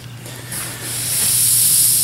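Sandpaper working over a wooden crokinole board with low shiny spots, a steady airy hiss that swells and grows louder over two seconds, close by with no talking.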